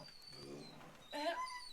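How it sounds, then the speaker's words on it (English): Dogs in the farming video game Farmers Dynasty whimper and yip in a brief, faint scuffle. A soft whine rises into a sharper yelp. "The dogs are biting each other."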